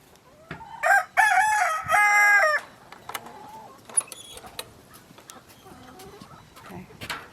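Rooster on a farm crows loudly and close, one long drawn-out call with several breaks, then scattered clucking and softer fowl noises follow.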